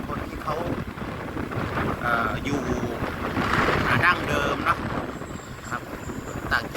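Wind buffets the microphone on a motorbike riding slowly along a rural village road in the Thai countryside, a steady rough roar filling the whole clip with brief gusty surges.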